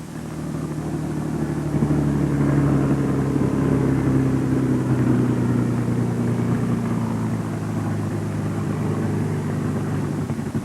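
A Bell P-39 fighter plane taxis with a continuous loud engine drone and propeller hum, steady tones shifting slightly in pitch as power changes, with no voices over it.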